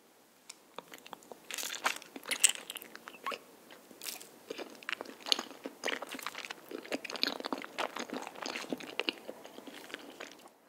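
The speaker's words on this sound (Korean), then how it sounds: "일단 바닐라 맛부터 먹어볼게요." Close-up crunchy bites and chewing of vanilla cream-filled rice cake, a steady run of crisp crackling crunches and moist chewing sounds with no talking.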